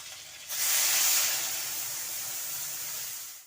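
A spice paste of cumin, coriander, chilli powder, ginger and green chilli hits a hot pan and fries. A loud, close hissing sizzle bursts in about half a second in and then holds steady, with no voices.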